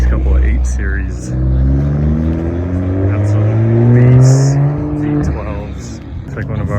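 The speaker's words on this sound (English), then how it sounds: "Just hear the RS6 start up quite loud." An Audi RS6 engine at a European car show rumbles loudly close by, its deep revs rising and falling across the clip, with a voice talking over it near the end.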